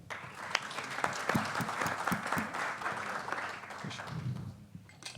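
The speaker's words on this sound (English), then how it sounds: "big clap for them" Applause from a conference audience greeting mentors at a quantum computing hackathon, a steady wash of many hands clapping for several seconds, moderately distant, fading slightly toward the end.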